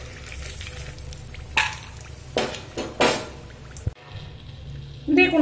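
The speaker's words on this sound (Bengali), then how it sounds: "তো একটু লাল লাল করে ভেজে তুলে নেব।" Bori lentil dumplings fry in a pan with a constant low sizzle, broken by several sharp scrapes and clanks of a utensil stirring against the metal, and a louder clatter near the end.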